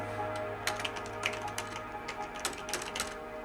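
Rapid typing on a computer keyboard, a run of light clicky keystrokes in uneven bursts, close and fairly quiet over a faint steady hum.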